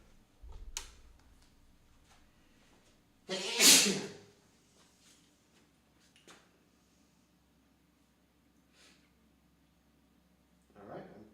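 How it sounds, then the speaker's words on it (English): A single sharp sneeze bursts out near the middle while a PC is being built, loud against an otherwise quiet room with a few faint clicks and small noises around it. "And I have to sneeze."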